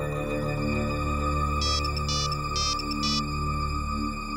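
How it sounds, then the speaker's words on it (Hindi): A mobile phone rings unanswered: four short bursts of a bright electronic ring tone, evenly spaced, over a steady background drone, with no one picking up. "वो फोन नहीं उठा रहा है, सिर्फ घंटी बज रही है"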